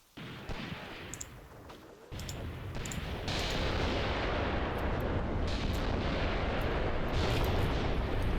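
Heavy gunfire and artillery in the war game Graviteam Tactics form a loud, dense, continuous barrage of booms and cracks that builds after the first two seconds, with no talk over it.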